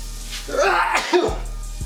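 A single loud human sneeze bursts out mid-clip in a kitchen where burgers are being cooked, with a low steady hum from the stove underneath.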